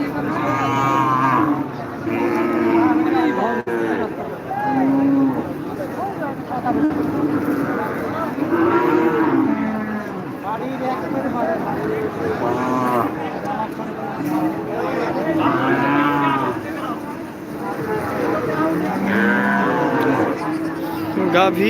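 Cows low repeatedly at a busy winter cattle market in Taherpur, Rajshahi, several moos rising over a constant crowd murmur, with people talking nearby throughout.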